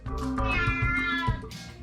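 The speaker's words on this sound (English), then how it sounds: "the Basenji howls, squeals, and even meows a little." A Basenji dog lets out a drawn-out, meow-like vocalization, a single continuous whining call with a wavering pitch that lasts nearly two seconds. It is close and clear, with no talking.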